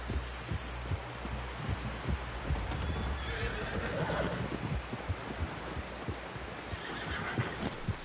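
A horse whinnies in a PS4 video game amid a steady clip-clop of hooves and a low rhythmic throbbing, with no talking.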